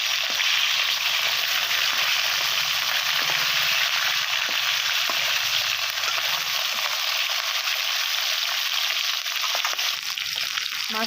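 Fish sizzles steadily in hot oil in a kadai, a loud, even crackling hiss that continues without pause.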